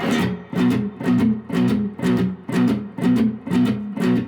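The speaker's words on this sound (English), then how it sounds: "we're adding like an upward rake on the strings, but it's muted" Electric guitar chugs a steady shuffle rhythm, each beat led by a quick muted upward rake across the strings before the chord rings.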